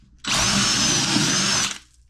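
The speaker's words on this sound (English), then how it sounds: "It's going to allow me to drill pocket holes." A power drill bores a pocket hole into wood through a clamped jig, one loud continuous whine that starts abruptly, runs about a second and a half, then stops, close up and alone.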